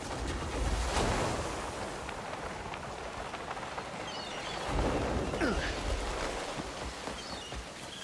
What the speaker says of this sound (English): Are the waves too strong?